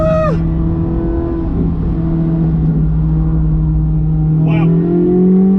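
A C8 Corvette Z06 pulls hard at full throttle on a racetrack, its engine note climbing steadily and loudly through the revs, with a quick shift partway through and a short vocal exclamation over the roar.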